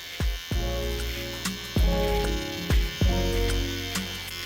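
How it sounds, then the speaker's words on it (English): A Rebel hair trimmer hums loudly during a curly-hair taper cut, its steady buzz broken by several sharp clicks and knocks as it is handled and moved along the temple. "With my Rebel trimmer, right here at the top of the temple peak area."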